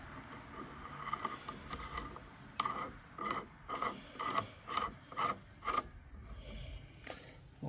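Threaded metal pipe being screwed onto a homemade gold retort base, giving a series of close, rhythmic scraping clicks and creaks in short bursts, with no talking.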